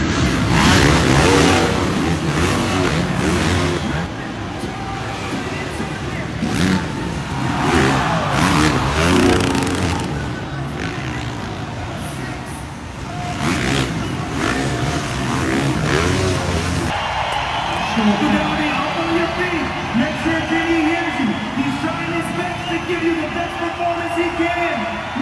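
Supercross race footage from Abu Dhabi WSX shows racing motorcycle engines revving and roaring amid loud crowd and announcer noise, with a crash; the sound is dense and continuous throughout, with talk mixed in.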